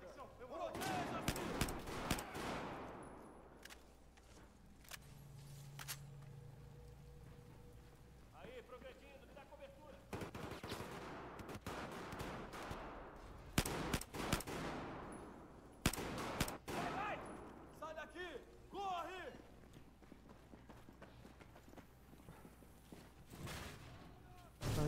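Battlefield 4 gunfire crackles in scattered bursts and rapid volleys amid explosions and rumble as a ship collapses, with people talking in Portuguese over the action throughout.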